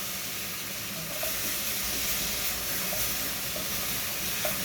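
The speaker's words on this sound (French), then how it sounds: "Je fais suer mon oignon." Onion sweating in a pan for a brown ragout, giving a steady, close, moderately loud sizzle and hiss that runs without a break.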